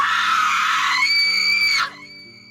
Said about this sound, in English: a blood-curdling scream filled the area